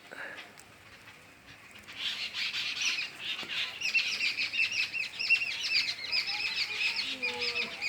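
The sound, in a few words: birds chirping among garden plants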